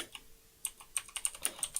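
Close-up keystrokes clatter on a computer keyboard in an uneven burst of sharp clicks after a brief pause, with no talking.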